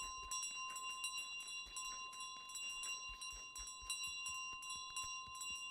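A bell rings over and over in Untitled Goose Game, quick bright dings repeating in a steady rhythm, clear and alone with no talk.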